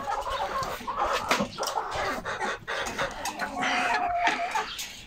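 A flock of crested chickens clucks continuously and close by, with overlapping busy calls and a brief crowing note. There is no talking.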